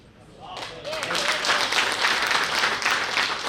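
Applause from an audience at a distributor training session swells in after a brief quiet start and holds as a loud, dense wash of clapping, with a voice speaking over it.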